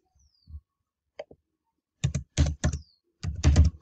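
Typing a chat message on a computer keyboard: a few scattered light clicks, then bursts of rapid key presses in uneven clusters, close and fairly loud, with no talk.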